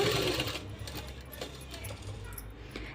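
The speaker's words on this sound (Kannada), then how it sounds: "ಸ್ವಲ್ಪ ಪೇಷನ್ಸಿಂದ ಸ್ಲೋ ಆಗಿ ಸ್ಟಿಚ್ ಮಾಡಿದರೆ ಮಾತ್ರ ಈ ಕಟ್ ವರ್ಕ್ ಅನ್ನೋದು ತುಂಬ ನೀಟಾಗಿ ಬರುತ್ತೆ" A sewing machine stitching cut work on a long frock runs in a steady, close whir with a fine rhythmic ticking, slow and continuous.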